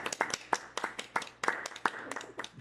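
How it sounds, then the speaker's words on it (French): A small studio audience at a podcast recording claps quietly, with sparse, uneven hand claps close by for a couple of seconds. "Applaudissements s'il vous plaît."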